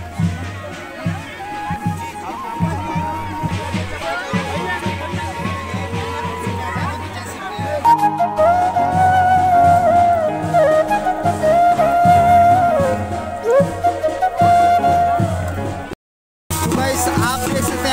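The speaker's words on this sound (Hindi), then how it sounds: "भीड़ लगी हुई है" Crowd at a Navratri fair for Mother Chintasani in Lakhamandal, Uttarakhand: steady hubbub of chatter and footsteps with a thin whistling tone running through it, close voices talking, and a brief dropout near the end.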